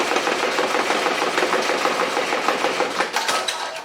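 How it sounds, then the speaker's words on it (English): A Ricoma MT1051 embroidery machine stitches a hat, a dense, fast mechanical chatter with steady rapid needle strokes running loud and close for the whole stretch, with no voices. "And then I will actually hold the excess thread here and start the machine."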